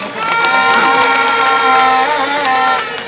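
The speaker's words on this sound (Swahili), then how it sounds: "wapiga makofi Azam" A large crowd cheers and roars continuously at a Yanga football club event in Tanzania, the sound loud and sustained throughout with shrill tones rising above the din.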